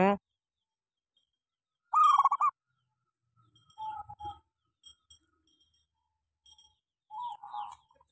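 A sick local perkutut (zebra dove) with worms coos in short, separate phrases spaced several seconds apart, fairly close but soft, with quiet gaps between calls.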